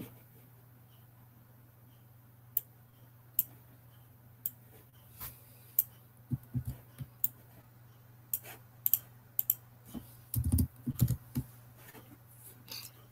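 Sparse, faint keyboard clicks on a computer keyboard, a few isolated taps that build into quicker bursts of typing toward the end, over a low steady hum.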